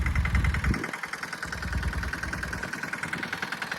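Tractor engine idling nearby with a steady low chugging rumble and a persistent mechanical whine on top, continuous throughout.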